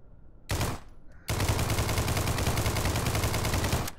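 A bullpup rifle fires in a video game: a short burst, a brief pause, then a sustained loud stream of rapid automatic shots.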